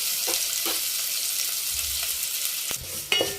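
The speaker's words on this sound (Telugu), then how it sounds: "వేగినాయండి ఉల్లిపాయలు కూడా చక్కగా వేగినాయి" Onions fry in hot oil with a steady close sizzle, broken by a few scrapes of a spatula stirring the pan. No voices are heard.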